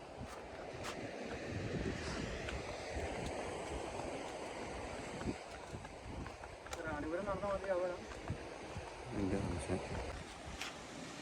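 Steady rushing surf on the Kasaragod shore with wind buffeting the microphone, with voices talking faintly over the roar of the sea.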